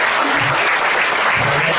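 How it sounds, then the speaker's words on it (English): Loud, close audience applause for a doctor at a health product demonstration, a dense uninterrupted burst of many hands clapping, with a few faint vocal sounds mixed into the crowd. "can you please give the doctor a round of applause?"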